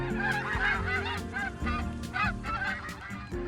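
Loud, harsh honking calls from peafowl at the Detroit Zoo repeat in rapid succession over a steady low rumble, with no talking.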